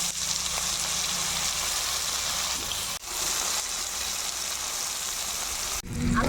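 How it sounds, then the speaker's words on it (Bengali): Potatoes frying in oil in a home kitchen crackle and hiss in a dense, continuous sizzle, close and loud, with two brief dips in level. "এখন আমি আলুগুলো ভেজে নেব।"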